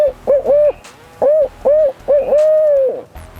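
A person imitates an owl with their mouth, giving a rhythmic series of close, resonant hoots: short ones first, then a longer held hoot at the end, with no other voices.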